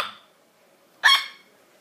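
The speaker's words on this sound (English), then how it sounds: "Got a bark on you, ain't you, boy?" A young dog gives a single sharp, short bark, fairly close and moderately loud, after a faint brief sound at the start and otherwise near silence.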